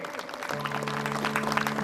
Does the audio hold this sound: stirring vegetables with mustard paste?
no